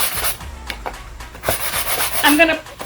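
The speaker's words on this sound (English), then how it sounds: "I just have my sanding block" Steady scraping and rubbing of a sanding block across painted wood, in short uneven strokes, fairly close and continuous over a few seconds.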